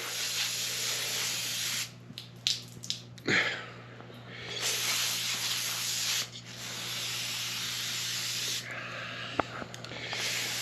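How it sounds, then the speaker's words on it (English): Bursts of aerosol spray hiss loudly in long blasts separated by short pauses, cleaning gunk out of transmission parts, with a faint steady hum in the background. "I'm spraying this out to get all the gunk and debris out of here."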